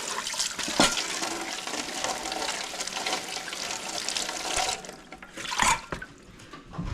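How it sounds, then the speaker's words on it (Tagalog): Carrots being washed under a running kitchen tap, a steady broadband rush of water with splashing as the vegetables are handled, briefly quieting then surging again near the end. "Dalawang carrots. Magaling na hugasan."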